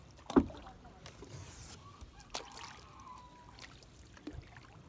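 A rowing boat out on Begnas Lake, with faint oar splashes and water dribbling against the hull, plus a few sharp knocks of wood amid quiet ambience; a brief voice is heard.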